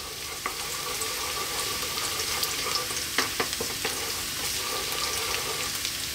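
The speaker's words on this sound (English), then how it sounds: "I'm gonna drop in our garlic. Just give this a few seconds to slightly brown." Garlic frying in sunflower oil for Filipino chicken caldereta, a steady crackling sizzle with a few sharper pops and light stirring, close and moderately loud.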